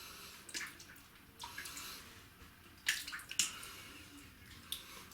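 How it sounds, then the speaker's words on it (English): Water runs and splashes into a bathroom sink before a shave, coming in intermittent bursts of close, bright splashing with quieter stretches between them and no voices. "Get some water in the sink."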